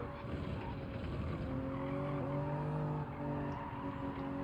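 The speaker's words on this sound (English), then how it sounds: "Car wants to slide a little bit there. You can hear it." Racing game car engine in Gran Turismo 7, a Toyota Supra, holds a steady drone through a corner while tires squeal in rising and falling streaks as the car slides, fairly close and loud.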